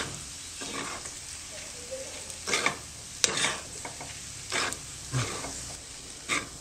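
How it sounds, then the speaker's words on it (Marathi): Moong dal roasting in ghee in a pan for halwa, a soft sizzle under repeated scraping strokes of a spoon against the pan, spaced every second or so, near and moderately quiet, with no speech. "जशी जशी ही परतली जाईल तशी तशी याचा दाणा दाणा मोकळा होतो,"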